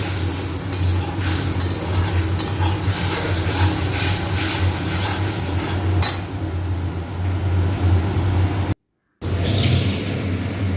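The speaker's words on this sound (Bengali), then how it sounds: "দেখো লঙ্কা আর কালো জিরে ফোড়নের মধ্যে দিয়ে দিল।" Chilli and black cumin tempering sizzles in hot oil for a Bengali rohu mustard-poppy seed dish, a steady frying hiss broken by scattered clinks and scrapes of stirring, close and without talk.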